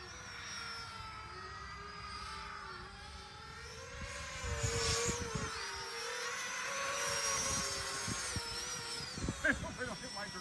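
A small drone's propeller motors whir in a steady high buzzing whine that rises and falls in pitch with throttle changes, heard outdoors in wind with thumps and knocks partway through, fairly faint and continuous.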